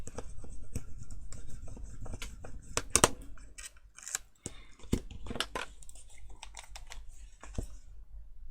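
Scissors trim overhanging material off a handbag in a series of crisp, close snips and clicks, irregularly spaced with quiet gaps between cuts.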